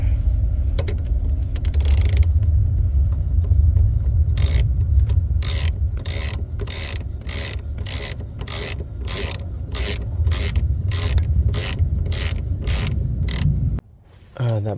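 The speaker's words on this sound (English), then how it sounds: "Got the ratchet." Ratchet wrench turning a bolt on a 1999 Honda Civic coupe: a steady run of quick, sharp metallic clicks in a regular rhythm, close and loud over a low background hum.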